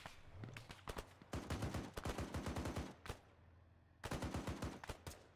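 Rapid bursts of automatic gunfire in a first-person shooter video game, several loud clustered volleys of sharp shots separated by brief pauses, with no talking.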